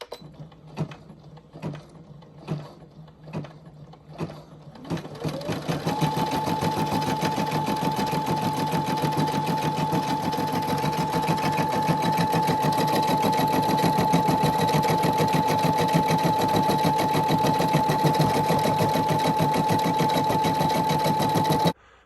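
A Brother SE600 embroidery machine starts with a few separate clicks, then settles into fast, continuous stitching with a steady high motor whine, loud and close, running alone until it stops at the end.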